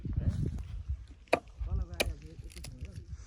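Firewood being chopped outdoors, two sharp distinct axe strikes over background talking and clatter.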